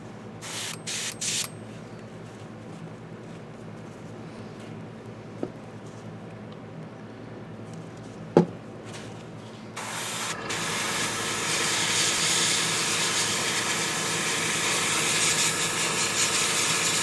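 Airbrush being cleaned by spraying water through it after painting miniature skin tones. A few soft clicks and a faint tap come first, then a loud, steady, close hiss takes over and continues to the end.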